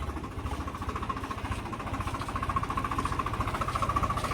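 A farm tractor engine running steadily at idle, a rapid rhythmic diesel knocking chug with a steady mid-pitched hum, close and continuous with no pauses.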